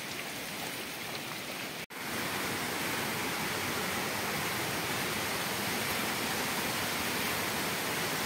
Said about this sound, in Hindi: वनराई वाटरफॉल